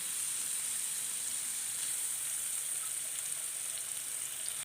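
French fries frying in hot oil in a home kitchen, a steady bright sizzle that holds evenly throughout with no breaks and no talking.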